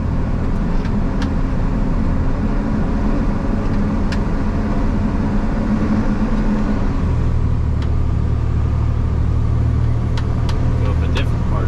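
A truck engine labours up a snowy hill, a loud steady close drone that drops to a lower, heavier rumble partway through, with faint clicks over it.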